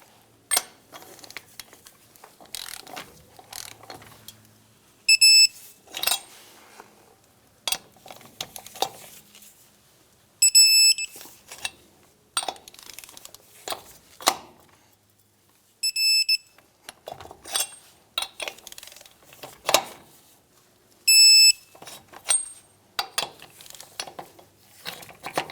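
A torque wrench tightens lug nuts on a 1992-1996 Ford F-150 front wheel in a crisscross pattern, giving four separate sets of high electronic beeps spaced a few seconds apart among clicking, ratcheting and metallic clatter.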